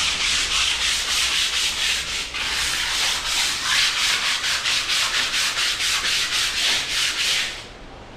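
Sandpaper rubbing over a dried skim coat on a house wall, a steady close scratchy rasp in quick repeated back-and-forth strokes lasting several seconds before easing off at the end, with no talking.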